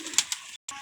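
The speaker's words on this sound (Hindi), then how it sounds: "ये कबूतर है भाईजान" A pigeon coos softly and close by, with a few short breathy notes and a brief pause near the end, with no talk over it.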